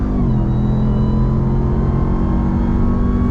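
The supercharged engine of a 2021 Ram TRX truck under steady acceleration gives a constant loud drone with a thin high-pitched whine riding on top, close and without pause.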